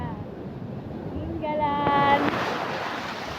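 Ocean waves at Aurora Beach Resort in Dingalan wash in as a steady, broad roar, swelling slightly toward the middle, with wind buffeting the microphone and a faint voice briefly audible.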